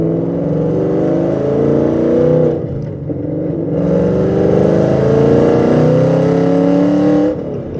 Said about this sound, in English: There's 3/4 of the gas pedal left to go when I'm hitting this accelerator.